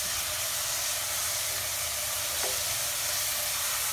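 Chopped onions frying in a pan in the early stage of an Odia-style chicken curry, giving a steady, close sizzle that holds at an even level throughout, with no voices.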